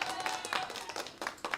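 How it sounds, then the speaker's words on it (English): Brief burst of clapping and applause, a short played sound effect of several hands clapping, heard faintly alongside a speaking voice. "Let's give him a little round of applause"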